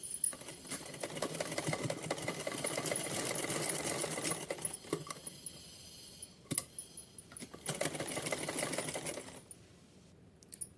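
A sewing machine stitches a straight seam on a small Kanha ji outfit. Its rapid, close clatter runs in bursts, with a short pause near the middle and a quieter stretch at the end.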